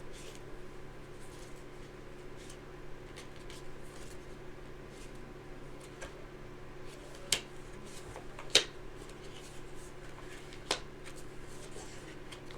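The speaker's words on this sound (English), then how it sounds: "I might have to shuffle again." Tarot cards are shuffled by hand in a quiet room with soft, steady riffling. A few sharper taps and snaps stand out now and then, with no talk over them.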